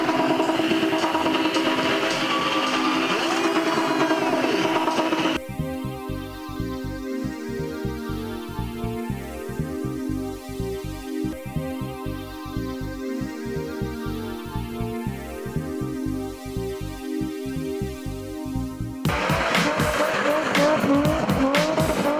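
Car spinning in a stunt display, its engine revving hard with loud sustained tyre squeal and screeching skids, droning in a rhythmic pulsing pattern through the middle, close and loud, with a voice briefly audible.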